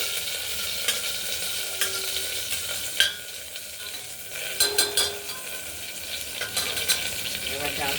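Washed mung dal is stirred into a hot tempering in a pressure cooker, with a soft frying sizzle underneath and repeated scraping clinks of a spoon against the pot at an irregular pace, close by and without speech.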